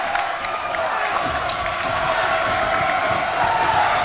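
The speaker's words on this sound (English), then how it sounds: "And the crowd is going crazy here at Jerry Savage Court." Loud, roaring crowd noise at a high school varsity basketball game at Jerry Savage Court between Loyola Blakefield and St. Frances Academy, a constant wall of cheering and whooping in a close finish, with a commentator talking over it.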